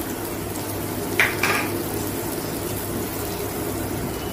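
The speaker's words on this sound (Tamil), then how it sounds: "கறி மசால் பவுடர் எல்லாத்தையும் லைட்டாக ஃப்ரை பண்ணிக்கோங்க." Spice powders, coriander, chilli and curry masala, lightly frying in a pan for egg gravy: a soft steady sizzle with a couple of brief scraping stirs against the pan.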